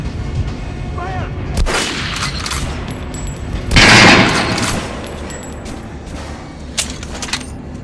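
Gunfire in the video game Metro Last Light, with bursts of shots over a busy rumbling game soundscape and a louder blast near the middle.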